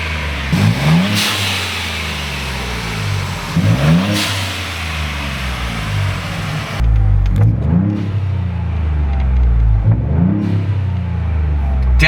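Turbocharged 2021+ Ford Bronco with a Turbosmart blow-off valve, engine revving up repeatedly with hissing releases between pulls, loud and close from inside the cab.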